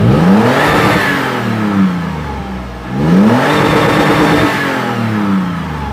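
Toyota FJ Cruiser 4000 cc petrol engine revved twice in close succession, each rise climbing to a loud roar and falling back toward idle, heard up close with no talking.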